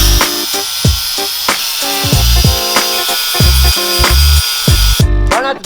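A power tool grinds on an EcoBoost Mustang engine block with a steady high whine and repeated rhythmic scraping strokes, each pass loud and close, for the whole stretch.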